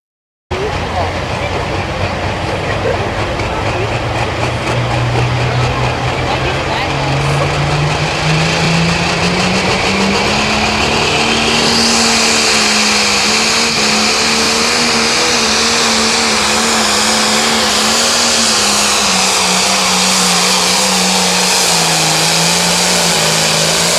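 A 9500 Limited Pro Stock pulling tractor, an International, roars loud and steady through a full pull at a Mound City, Missouri event, its engine note climbing and holding under a bright wash of crowd and track noise.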